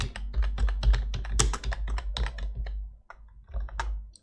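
Fingers type rapidly on a computer keyboard, a close, crisp run of key clicks with a short pause near the end, and no voices.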